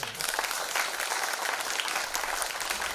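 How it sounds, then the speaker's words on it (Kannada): An audience at an Infant Jesus novena service claps together in a dense, sustained burst of applause that stays loud and even throughout. "ನಿಮಗೆ ಖುಷಿಯಾಗಿಂದ ಚಪ್ಪಾಳೆ."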